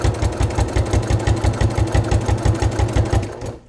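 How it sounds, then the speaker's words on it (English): A sewing machine runs steadily, topstitching the lining of a leather crossbody bucket bag with white thread, its rapid, evenly pulsing needle strokes close and clear before the motor winds down at the end. "I'm top stitching the lining just to help that seam"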